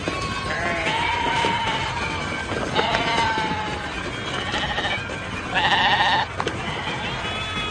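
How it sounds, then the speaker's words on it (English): Goats and sheep bleat repeatedly in a loud, busy mix, several strained calls overlapping, with a voice talking throughout and a sharp burst of bleating near the end. "a Judas goat is a goat that is trained, that is mixed in with the sheep for the purpose of deception"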